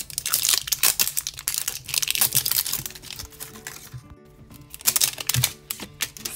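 Crinkly plastic toy packaging being torn open and unwrapped by hand, a LOL Surprise Series 3 box with sticker packets, giving dense, continuous crackling and crumpling close up, with short pauses and no talk.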